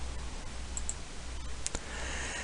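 A few quiet mouse clicks while working in GIS mapping software, sharp isolated ticks over a low steady hum.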